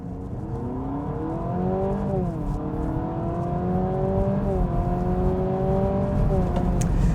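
A 2026 Honda Civic Sport Touring hybrid hatchback accelerates from a standstill on level ground, its engine drone rising steadily in pitch with a couple of brief dips where the transmission shifts, heard from inside the cabin.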